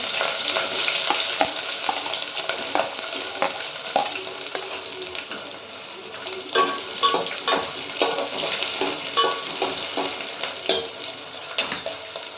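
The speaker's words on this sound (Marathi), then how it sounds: "कांदा लाल होईपर्यंत जरा कांद्याला हलवायचं" Onion sizzles with whole spices such as bay leaf, cinnamon, cardamom and cloves while a spoon stirs it in a pan, steady frying with repeated scraping and clinking strokes.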